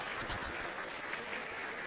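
Sparse audience applause at a public speech, a thin steady patter of clapping across the whole stretch with no voice over it.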